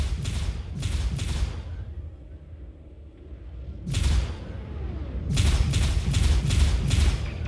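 Missile explosions in the space-combat game Star Citizen: bursts of booming, crackling blasts, a cluster near the start, another around the middle and a dense run of hits toward the end, over a low rumbling background.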